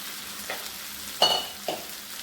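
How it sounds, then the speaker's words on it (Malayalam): Boiled elephant yam and cowpea pieces stirred in a pan, a low sizzle with three distinct spatula scrapes, the middle one loudest. "ഇനി നമുക്ക് ഇളക്കി കൊടുക്കണം."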